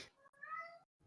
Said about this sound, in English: you guys let me know if you can hear my cat meowing in the background